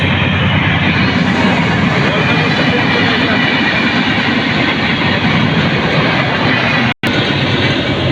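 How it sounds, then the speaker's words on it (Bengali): A train rolls past close by on a rail line in the Rajshahi region, a loud, steady broadband roar of wheels and cars lasting throughout, with a brief dropout near the end. "ট্রেন এসে গেছে ট্রেন যাচ্ছে দেখেন আপনারা"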